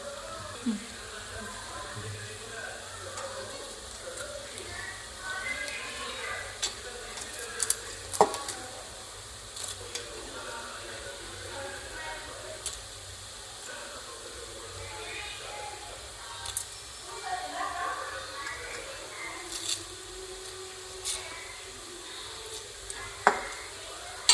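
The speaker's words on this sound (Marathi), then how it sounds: "एक चमचा तूप टाकायचं आता कांद्याला चांगला सोनेरी रंग आला आहे तर आपले खडे मसाले आता टाकून घेऊया" Whole spices sizzle in ghee with golden-browned onions for a vegetable pulao, a soft continuous frying hiss broken by occasional light clinks of a spoon against the pan.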